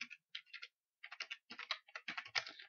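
Quick, light keystrokes on a computer keyboard clatter in short irregular bursts, close and quiet, with brief pauses between words and no voices.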